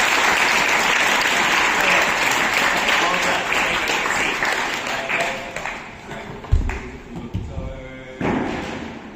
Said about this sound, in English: can we get one more round of applause for Mr. Noah?